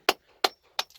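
Three sharp, evenly spaced taps of a hammer on rock, each a short bright knock with a slightly hollow ring, close and clear with quiet gaps between strikes.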